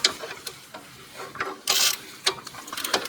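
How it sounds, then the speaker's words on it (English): A 3/8 torque wrench with a 9/16 socket tightens the rear brake bolts of a 1973 Chevy Impala, giving quick ratcheting clicks in short bursts, close up, with no talking. "with a torque wrench, you're going to torque those down to 40 foot-pounds"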